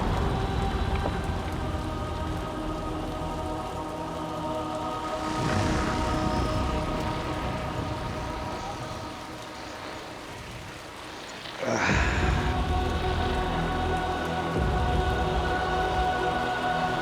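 Steady rain falls throughout in Little Nightmares 2, a dense continuous hiss that dips briefly before returning louder, with low rumbling beneath it and no voices.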